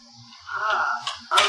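A single person sneezes during a tabletop role-playing game session, with a short voiced intake building into one sharp, close burst, and no other voices nearby.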